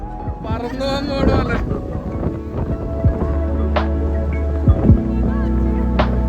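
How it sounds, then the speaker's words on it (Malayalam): Low, blustery wind rumbles and buffets the microphone steadily, with people talking over it near the start. "അടിപൊളി കാറ്റ്"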